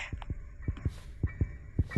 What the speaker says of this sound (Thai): อุ้ยมีเสียงหัวใจด้วย อุ้ยน่ากลัวมากเลย